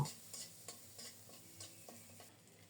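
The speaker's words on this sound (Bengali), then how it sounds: "সরিষার তেলে রসুন কুচানো দিয়েছি নেড়ে চেড়ে রসুনটাকে ভালোভাবে ভেজে নেব" Chopped garlic frying in mustard oil as it is stirred, with soft crackling sizzle and a few light scrapes of a utensil in the pan, faint and steady.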